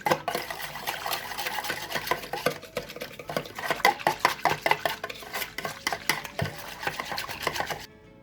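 A spoon stirring yeast and sugar in a bowl, rapid rhythmic clinks and scrapes against the bowl, close and continuous, stopping abruptly at the end.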